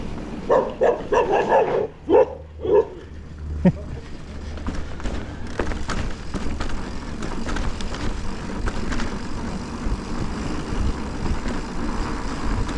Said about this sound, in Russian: Собака злая.